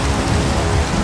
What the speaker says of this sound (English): Aw, not the rain!